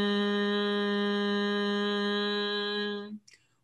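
A voice hums a steady, sustained tone to imitate a bee's buzz, one long even drone held for about three seconds before it stops, close and clean with nothing behind it.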